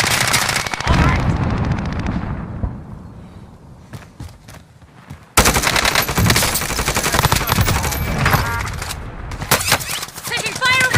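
Rapid automatic gunfire from an AR-style QBZ83 rifle in Call of Duty Warzone crackles in loud bursts, with a quieter pause midway, then dense firing resumes amid battlefield noise and radio-style voice chatter.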